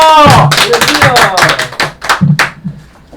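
A small group claps along in a Christian broadcast studio during an English lecture. The claps are loose and uneven, coming in short, dense bursts for about two and a half seconds before stopping, with no talk over them.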